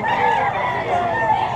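Chickens and fighting roosters at an animal market in Bocaue, crowing and clucking together in a steady, busy din with no clear pauses.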